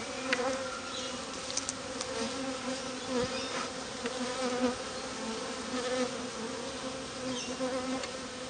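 Dense, steady buzzing of a honey bee colony during a mid-winter hive check with a queen cage, a continuous drone of many bees close by with no talk.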